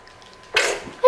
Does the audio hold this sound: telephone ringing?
no